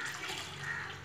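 Cooked jaggery syrup pours into a pan in a continuous, soft liquid splash for about a second.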